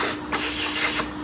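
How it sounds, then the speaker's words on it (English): A vacuum hose sucks dust out of the bench dog holes in a woodworking workbench, giving a steady close hiss that shifts briefly as the nozzle moves from hole to hole. "So what I do is I vacuum out every hole."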